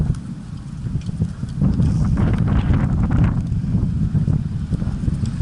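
Strong wind in Pililla, Rizal buffets the microphone in a continuous low roar, swelling louder partway through, with a steady rumble underneath.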